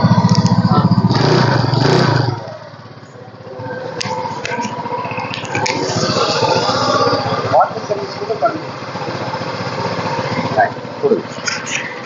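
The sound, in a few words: used two-wheeler engine running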